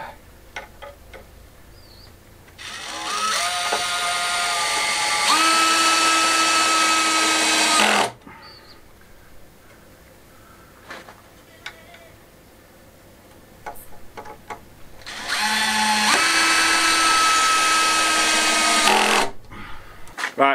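A power drill drives screws in an outdoor courtyard build, with two separate bursts of high whirring, each about five seconds long and close by, the pitch dropping as each screw seats, and quiet pauses in between.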